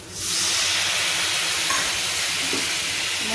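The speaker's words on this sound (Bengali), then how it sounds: "লেগে যাচ্ছে তো একটু জল দিয়ে দিলাম," Water poured onto spice paste that is sticking in a hot pan, with tomatoes added: a sudden loud steam hiss and sizzle that rises at once and holds steady, close up and alone.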